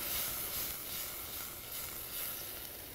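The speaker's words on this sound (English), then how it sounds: "add just a little bit more of wine just to get all those flavors off" Wine poured into a hot pan of onions to deglaze it, a soft, even hiss of sizzling steam that swells and eases slightly over a few seconds, fairly faint and with no voices.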